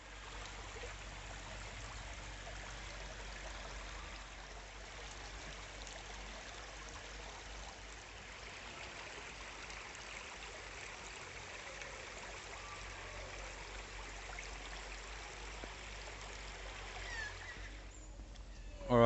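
A mountain stream flows at Healesville Sanctuary zoo in Australia, giving a steady, even rush of water that holds at a constant moderate level throughout, with a brief louder burst at the very end.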